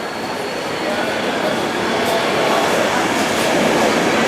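An LNER train rumbles steadily out of York station, a continuous broadband roar slowly building in loudness, with faint rail noise underneath.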